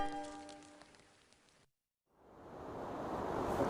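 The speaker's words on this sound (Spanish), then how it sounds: "con un fuerte aguacero aquí en Otavalo" A heavy afternoon downpour falls in Otavalo. After a burst of music cuts to silence, a broad, steady rush of rain swells in and grows louder toward the end.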